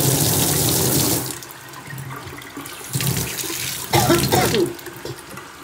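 A tap runs steadily in a laundry room, water splashing loudly into a sink, easing off briefly before gushing again in short bursts.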